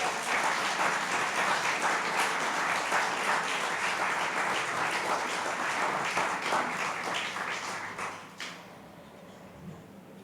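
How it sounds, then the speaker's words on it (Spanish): A church congregation claps for the Lord during a worship service, loud sustained applause that runs for about eight seconds before dropping off abruptly to quiet room sound. "Dale un aplauso al Señor"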